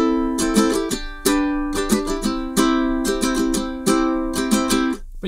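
A song played on a ukulele: bright, rhythmic strums of chords repeat steadily, close and loud, with no voices.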